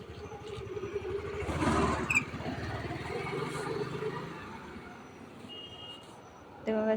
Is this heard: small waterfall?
no